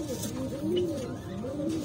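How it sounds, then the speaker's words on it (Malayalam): Pigeons in a loft coo softly and close by, a low, rolling series of throaty coos that repeats in a gentle rhythm. "ഇത് രണ്ടാളും ഒരേപോലത്തെ പ്രാവ് കേട്ടോ"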